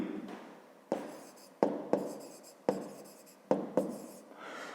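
A pen scratches across paper in a school math exercise book, with several short strokes and taps at an uneven rhythm. The writing is close and crisp, and no one talks.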